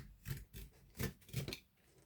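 Scissors cut through the pages of an old first-edition book as four soft, close snips in an uneven rhythm, each with a papery crunch. The whole sequence is quiet and lasts about two seconds.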